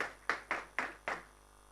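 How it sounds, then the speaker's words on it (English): Four separate, evenly spaced claps at an evening public lecture held by a college of physicians. They sound fairly near and a little reverberant, with no voices over them. "So can we give ourselves a round of applause"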